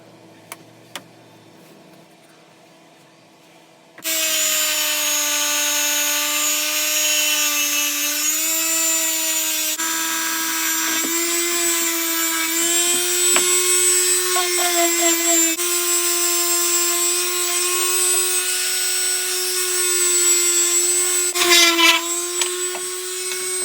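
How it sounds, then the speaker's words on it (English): A power sander works over the wood of a wheelbarrow planter with a loud, steady whine that shifts slightly in pitch as pressure changes. It starts after a few quiet seconds and runs continuously. "we're now at a stage where everything's had a good sanding"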